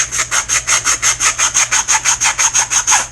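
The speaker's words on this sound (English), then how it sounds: "This is just some 100 grit sandpaper. I'm going to fine up my ends here a little bit." Steady back-and-forth sanding of foam with 100 grit sandpaper, about sixteen even rasping strokes in a quick regular rhythm, close and fairly loud with no voices.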